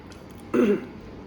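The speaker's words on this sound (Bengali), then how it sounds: "কাশি হয়ে গেছিলো" A single short throat-clearing cough from a woman with a sore throat after sipping a virgin mojito at a restaurant, one brief rough burst standing alone against quiet room noise.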